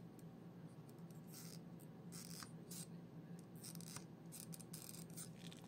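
An in-ear earphone driver is being cut open during a teardown, producing quiet, scattered snipping and scratching sounds over a low, steady background hum.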